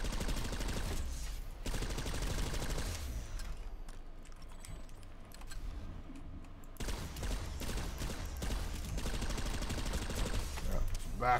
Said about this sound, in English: Orion, I know this is a deadly gun.